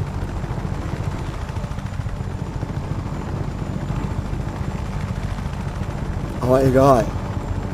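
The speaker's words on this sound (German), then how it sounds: "Und nehmen uns diesen wunderschönen, geilen Helikopter, der garantiert nicht lange leben wird." Helicopter in the video game Just Cause 3, a continuous rotor and engine drone with a louder, rising whine near the end, heard under someone speaking German.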